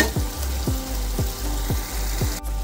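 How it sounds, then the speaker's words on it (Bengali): Paneer bhurji frying in a pan over raised gas heat, a steady close sizzle with a rhythmic scrape of a spatula stirring through it roughly every half second. "এবার গ্যাসের হিটটা একটু বাড়িয়ে দিয়ে নেড়ে চেড়ে নেবো ভালো করে।"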